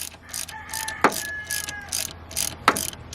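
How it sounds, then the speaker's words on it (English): A 3/8 inch long ratchet works against the serpentine belt tension pulley of a 2007 Saturn Ion 2.2L, making a steady series of close, raspy ratcheting clicks with a couple of sharper metallic knocks. "I'm going to try to use a 3/8 inch long ratchet"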